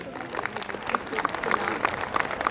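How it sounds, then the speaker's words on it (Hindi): Parents and guests at a school annual day applaud, a dense round of clapping with a crowd murmur and voices mixed in. "सो एक बार जोरदार तालियां आप सबके लिए"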